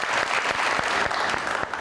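A brief burst of applause from a studio audience for a TV talk show, steady clapping filling the whole moment without any voices on top.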